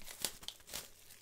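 Plastic wrap on a TWICE album package crinkles and tears in a few quiet, brief bursts, soft and close, with no talking.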